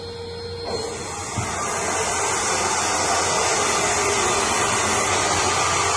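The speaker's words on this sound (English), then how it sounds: "You can hear the volume of that suction coming. It's a very powerful suction." A powerful carpet-cleaning wand's suction roars up to full volume and holds a loud, steady whooshing hiss, close to the microphone.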